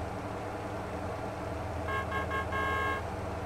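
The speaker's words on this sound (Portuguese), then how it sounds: "Dá aquela buzinadinha clássica" Car horn honks in the video game Motor Town: Behind the Wheel, on a snowy road with a loaded vehicle. A few short toots are followed by one longer blast, loud and clear over a steady low engine drone.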